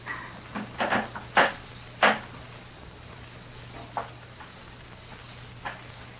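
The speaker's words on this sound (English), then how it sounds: "I heard a board creak." A single wooden floorboard creaks in a quiet room, a few short dry creaks and knocks clustered early, then a couple of fainter isolated creaks against low hum, close and moderately loud.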